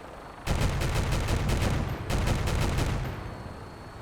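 Two long bursts of rapid automatic gunfire from Fallout 4, loud and dense, with a brief gap between them, then tailing off into a fading rumble with no talk.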